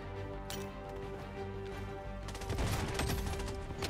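Bloodstrike gunfire, likely an MCX assault rifle, sounds as faint, scattered shots under a steady game hum before a denser burst of rapid fire swells in the last second and a half.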